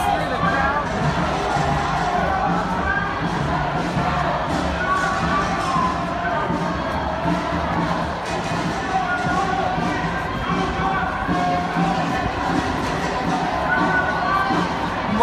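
A large crowd on a vegan protest march through city streets, a steady dense babble of many voices with scattered shouts and cheers, close and continuous throughout.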